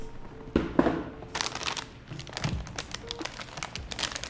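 Cardboard retail box for a Gigabyte RTX 3080 Gaming OC graphics card being handled and set aside, with a few close crinkling and crunching bursts and soft thumps of the packaging, no talking.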